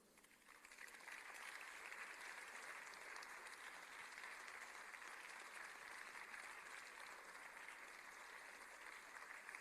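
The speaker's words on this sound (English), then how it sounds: "You can clap again to ginger him." An audience at the Enugu Tech Fest 2025 claps to welcome a speaker, a faint, even wash of applause that holds steady throughout with no talk over it.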